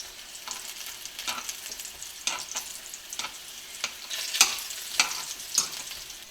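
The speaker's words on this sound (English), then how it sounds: "the wonton is fried" Spam wontons frying in a pan, giving a soft continuous sizzle broken by sharper crackles and pops, with a louder burst near the end.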